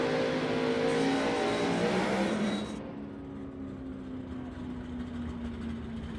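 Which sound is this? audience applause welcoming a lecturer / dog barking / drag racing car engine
drag racing car engine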